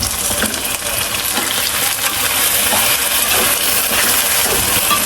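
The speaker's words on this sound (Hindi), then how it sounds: "ये मेरी भिंडियाँ फ्राई हो रही हैं।" Okra (bhindi) frying in a pan gives off a loud, continuous close-up sizzle and hiss that holds steady throughout, with no voices.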